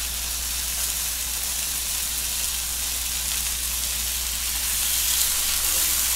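Steak searing in a pan at home gives a steady, close sizzle and hiss that holds evenly throughout, with a low hum underneath and no talking.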